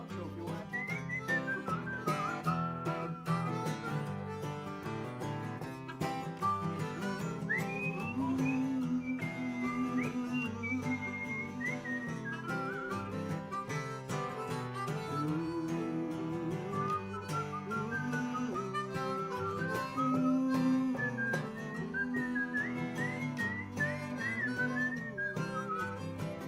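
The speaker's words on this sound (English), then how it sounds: "Give me a whistle outro if you want." A person whistles a wavering melodic outro at an informal living-room performance circle, the tune carrying continuously over a full, steady backing of sustained harmonic tones.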